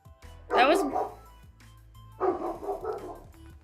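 A dog barks in two short bursts of close, loud barking separated by a pause, over a steady low background hum.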